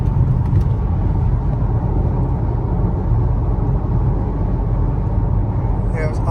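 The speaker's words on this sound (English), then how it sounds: "Get in the slow lane so I can go 70 without causing a wreck." A car fitted with wheel spacers cruises at highway speed, around 70 mph in the slow lane, giving a loud, continuous low road and engine rumble from inside the cabin, with a voice faintly underneath.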